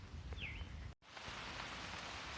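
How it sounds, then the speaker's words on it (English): Rain pattering steadily on a tarp shelter in the woods of Wild River State Park, a continuous close hiss with a brief bird call early on and a momentary dropout before the patter resumes. "So it's starting to rain a little harder"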